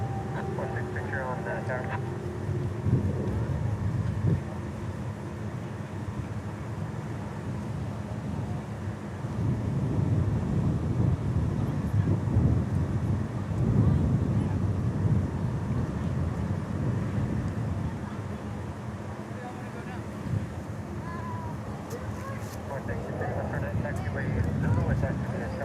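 An Embraer E-175 airliner at DFW airport produces a steady jet engine drone that swells in the middle, with wind buffeting the microphone and voices talking over it.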